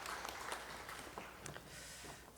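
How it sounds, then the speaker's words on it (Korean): Congregation applauding during a Wednesday church worship service, a dense, faint, steady wash of clapping filling the whole stretch without voices. "하나님께 영광의 박수 드리겠습니다."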